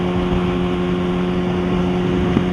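A Kawasaki ZX6R motorcycle fitted with a loud M4 exhaust drones steadily and close, its engine note holding an even, sustained tone with faint wind noise and no talking.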